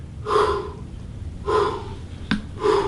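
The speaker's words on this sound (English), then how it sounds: "Breathing like that if you need to" Three slow, heavy breaths with a pause between each, close and audible, plus a brief sharp sniff or snort near the end.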